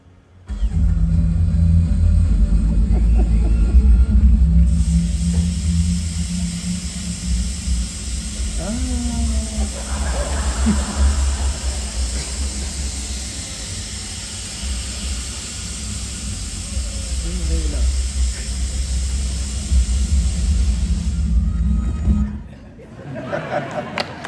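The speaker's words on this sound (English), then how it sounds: "The video recording does not do justice to just how loud that jetpack was." Rocketeer jetpack flying during a Disney nighttime show at Hollywood Studios, a loud sustained roaring hiss lasting about eighteen seconds over a rumbling crowd, with voices audible throughout.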